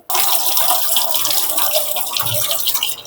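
Steady running tap water pours over garlic cloves being rinsed in a sink for a Bengali garlic fry, a continuous close splashing stream lasting throughout with no talking.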